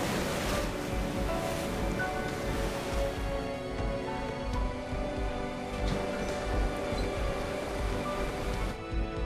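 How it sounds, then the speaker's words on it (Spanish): Sea waves surging furiously onto the shore, a loud, continuous roar of breaking surf and churning water, sustained without a break. "Furioso, el mar entra como si quisiera reclamar lo que es suyo."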